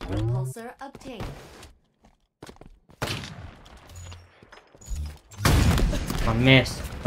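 Gunfire in Halo ranked doubles on The Pit map, with bursts of shots and sharp cracks that come in clusters between pauses, under and around players talking.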